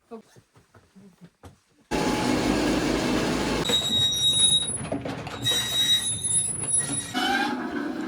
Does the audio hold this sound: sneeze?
no